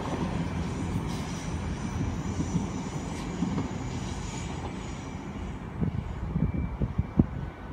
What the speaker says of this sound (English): We've got the Penzance train now leaving.